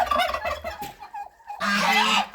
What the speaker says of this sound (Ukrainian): Диви, диви, які грязні, страшні чумазі кури